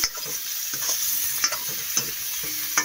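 Cauliflower sizzles in a hot frying pan, a steady crackling hiss with a few sharp scrapes and knocks of stirring spaced through it.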